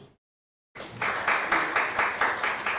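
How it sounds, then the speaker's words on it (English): An audience applauds at a live-streamed African arts event, steady rhythmic clapping rising after a short silence and holding at moderate loudness. "A round of applause."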